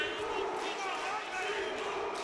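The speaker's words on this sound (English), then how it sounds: "Here comes the crowd again at the end of this round, shouting Pitbull." Fight crowd at a W5 kickboxing event in Austria shouting and cheering 'Pitbull' for Massaro Glunder at the end of a round, a dense steady roar of many voices filling the arena.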